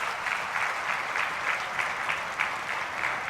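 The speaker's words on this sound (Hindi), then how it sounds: "तालियां बजाकर सेना के जवानों का अभिनंदन किया जाना चाहिए" Steady applause from an audience at a 25th anniversary ceremony of KNS Memorial Hospital, honouring army soldiers; dense, even clapping fills the whole stretch without speech.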